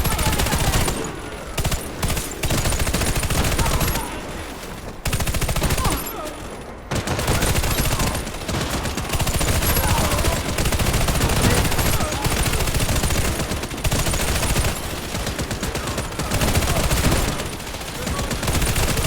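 Machine gun in the video game Warface firing long sustained bursts, dense rapid gunfire with brief pauses between volleys, loud and continuous, with other battle noise mixed in.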